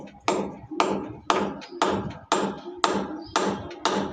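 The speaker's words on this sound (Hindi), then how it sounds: "ये जो कील है इधर लगानी है और हैमर से उसको ऐसा अंदर मार देना है" A hammer drives a nail into a wall with eight sharp, evenly spaced strikes about half a second apart, each ringing briefly before the next, close and loud with no talking.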